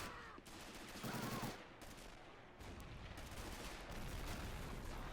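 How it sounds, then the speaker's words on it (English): An M12 155mm self-propelled gun carriage fires in the Men of War wartime strategy game, heavy booming blasts mixed into ongoing battle noise with rumbling reports and crackling gunfire throughout, fairly loud and continuous. "Something just shot. Must have been the M12 back there. Yes, the 155mm gun carriage."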